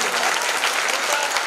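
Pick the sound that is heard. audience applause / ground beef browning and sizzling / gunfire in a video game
audience applause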